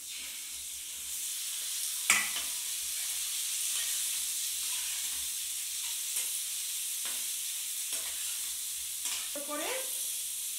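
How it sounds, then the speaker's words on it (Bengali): Potatoes and onions fry in a pan for aloo posto, a steady close sizzle with occasional scraping stirs and clacks, no talking. "পেঁয়াজটা হালকা করে ভেজেছি, আলুটাও এর মধ্যে ভেজে নিচ্ছি।"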